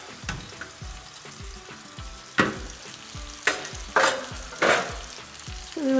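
Masala frying in a pan for shahi murgh musallam, a continuous sizzle punctuated by repeated scraping stirs and several sharp clanks of a spoon against the pan.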